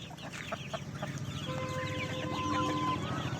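Native country chickens and chicks cluck and chirp on a poultry farm, with repeated short clucks and a few sustained peeping calls layered over a busy, moderately close flock, no speech.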